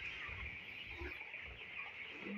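Broiler chickens on a small poultry farm cluck in a steady, dense chorus, with low murmuring from the flock beneath continuous higher calls, loud and close with no talking.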